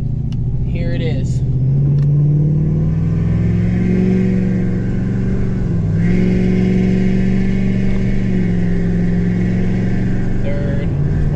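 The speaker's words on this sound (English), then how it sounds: "I don't know if you guys can hear this or not, but that thing is screaming pulling this trailer." A Ford F-250 with a 6.7 Powerstroke diesel on a custom tow tune accelerates while pulling a heavy gooseneck trailer, its engine droning loudly and rising in pitch through gear changes, with a voice speaking over it.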